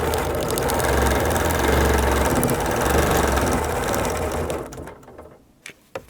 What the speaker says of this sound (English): I'm going to be able to quilt along here, stop, come up here a little bit, and then stitch back down